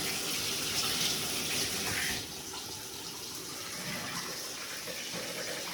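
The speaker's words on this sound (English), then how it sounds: "Now these are also low flow shower heads." Water running steadily from a low-flow shower head in a new home bathroom, a soft continuous hiss that drops to a quieter flow partway through.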